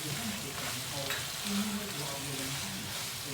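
Chicken bhuna with salt added sautéing in a pan, a steady close sizzle and frying hiss with faint stirring, continuous and even throughout.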